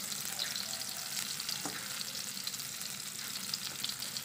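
Shallots, garlic and chopped chili stir-frying in a pan, giving a steady, even sizzle throughout with small clicks of stirring, near and alone without talk.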